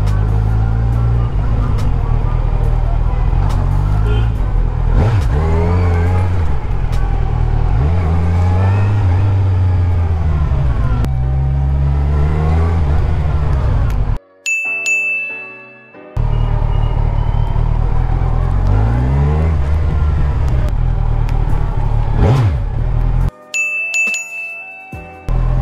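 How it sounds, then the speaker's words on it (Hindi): A superbike engine revs hard in public, loud throaty bursts rising and falling repeatedly, with a couple of brief cut-offs and a high ringing tone near the end. "मज़ा ही अलग है इस बाइक को रेव करने का"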